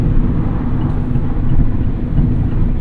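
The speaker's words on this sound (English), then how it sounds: "So now, at 70 miles an hour, we can hear how loud this is on the highway." Inside a 2024 Mazda Miata ND3 Club soft top cruising at 70 mph on the highway, a loud, steady droning roar of road, wind and engine noise fills the cabin without letup.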